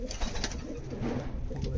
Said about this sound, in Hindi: बहुत बड़ा कबूतर है, ओरिजिनल रामपुरी कबूतर है भाई